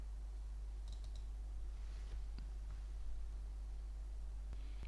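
Keyboard typing and mouse clicks at a computer while working in an Excel spreadsheet, sparse light clicks and a short burst of taps over a steady low hum, quiet and close.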